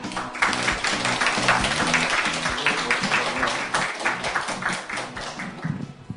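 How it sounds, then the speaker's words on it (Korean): An audience claps steadily to welcome a speaker on stage at a lecture in Korea, a dense, continuous wash of applause from many hands that carries on at full strength and barely fades. "큰 박수로 맞아주시기 바랍니다."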